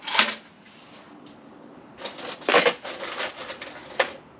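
A handful of spare keys jingles and clinks while someone digs through them looking for one that fits a Takeuchi excavator. The metallic rattles come close and in short irregular bursts, louder near the end.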